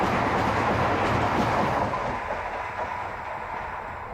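An electric locomotive hauls a Talgo passenger train from Malaga to Madrid around a curve, a loud close rumble of wheels and rolling stock that slowly fades as it passes.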